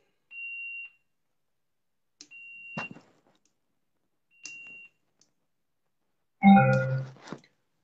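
Flat, steady phone-line beeps after a dropped call: three separate tones, each lasting about half a second and spaced apart. They are followed by a brief clatter and a burst of louder, mixed electronic noise.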